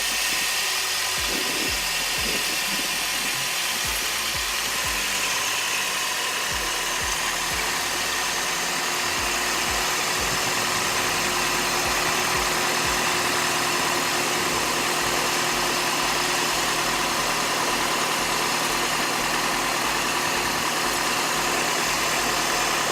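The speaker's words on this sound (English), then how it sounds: "My car sounds so gross compared to yours. Because mine has some exhaust." A car engine idles continuously with a rough, rumbling exhaust tone, steady and close throughout with no talking.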